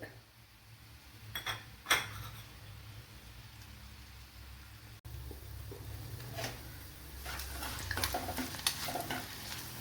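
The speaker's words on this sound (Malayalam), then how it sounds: "ഇപ്പോഴിവിടെ വെളുത്തുള്ളിയൊക്കെ മൂത്ത് വന്നിട്ടുണ്ട്" Garlic, green chili and curry leaves frying in hot oil, a soft sizzle under a couple of sharp utensil clinks early on, then a louder, denser crackle in the second half.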